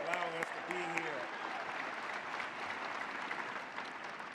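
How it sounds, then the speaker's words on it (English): Audience applause at a mayoral swearing-in ceremony at Georgia State, a steady, fairly faint wash of clapping from a large indoor crowd, with a voice speaking briefly at the start. "Let's give them a round of applause"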